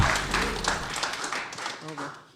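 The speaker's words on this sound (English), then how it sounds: "Let's give a round of applause." Studio audience applause for a guest on a local television talk show, a dense spatter of clapping that runs about two seconds at moderate level, with some voices mixed in.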